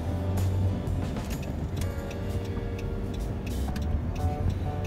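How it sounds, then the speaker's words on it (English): Cabin of a 2011 Dodge Grand Caravan minivan with a 3.6 liter V6 on the move: a steady, close rumble of engine and road noise runs throughout, with faint ticking above it and no talk. "All right, let's take it for a drive."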